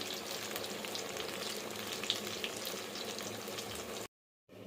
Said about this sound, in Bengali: কত সুন্দর ভেজে তুললাম, দেখুন কি দারুণ।